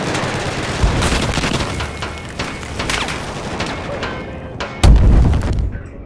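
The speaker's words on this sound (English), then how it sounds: "there's somebody shooting at me!" Battlefield 4 gunfire and explosions: dense, continuous shooting and booming throughout, with a sharp, loud blast near the end cutting through the din.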